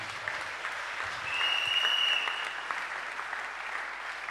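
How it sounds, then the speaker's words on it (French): Church congregation applauding at a sermon, a steady wash of clapping that swells briefly in the middle, with no voices over it. "Acclame bien."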